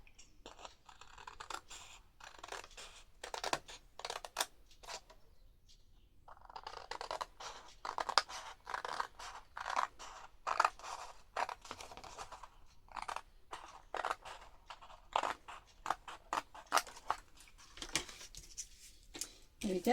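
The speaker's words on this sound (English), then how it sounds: "I'm going to cut that out." Scissors snip around a pencil-marked paper heart shape for a pop-up journal page, a long run of close, crisp cuts in irregular bursts with pauses.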